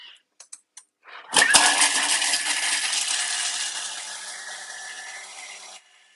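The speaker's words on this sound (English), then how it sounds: "I'm going to put it into my Thermomix and I'm going to grate it" A Thermomix grating parmesan cheese at speed 8 gives a loud, steady whirring grind that starts abruptly after a few small clicks and runs for about four seconds before cutting off.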